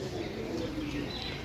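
Desi pigeons cooing at close range, a steady low murmur of coos running through the whole short stretch with faint chirps over it.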